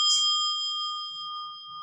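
A bright bell tone struck once and left to ring, its steady sustained partials slowly fading over nearly two seconds, close and clear with only faint low rumble beneath.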